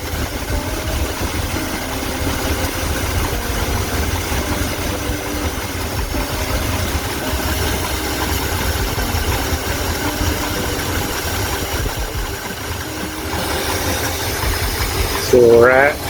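A 1986 Ford F250 truck engine idles loud and near with a steady, rumbling, unchanging drone, and a voice talks faintly underneath.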